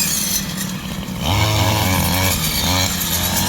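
A brush cutter cuts rice stalks in a paddy field, its engine whining loud and close, then revving harder with a wavering pitch as it bites into the crop.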